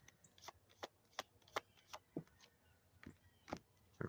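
Tarot cards are shuffled and drawn in a quick run of sharp, crisp snaps and riffles, close and fairly soft, spaced unevenly with short pauses between.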